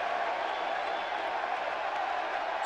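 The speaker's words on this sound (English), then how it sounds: "Crowd's just celebrating." Virtual arena crowd in WWE 2K17 celebrating: a steady, dense wash of cheering and roar, continuous and even throughout with no breaks.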